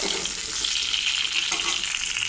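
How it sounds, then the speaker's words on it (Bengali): Cut potatoes fry in hot oil for a home-style chicken kosha, giving a steady, close, continuous sizzle with no talking over it. "আলুটা ভাজা হয়ে গেছে"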